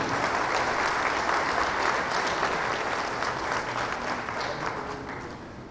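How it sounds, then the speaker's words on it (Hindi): A crowd at a student results event applauds steadily and densely, the clapping slowly fading toward the end with no talk over it. "एक बार फिर आप सबकी इस बच्चे के लिए बहुत सी तालियां।"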